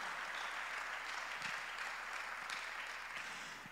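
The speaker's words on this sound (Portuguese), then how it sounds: "Aplauda o nome de Jesus, amados." A church congregation applauding during a sermon, steady dense clapping from many hands at moderate distance, fading slightly at the end.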